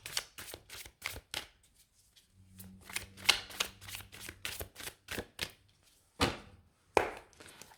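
Tarot cards shuffled and dealt in a string of crisp, papery riffles and slaps, close and fairly quiet, with short pauses between bursts and a faint low hum partway through.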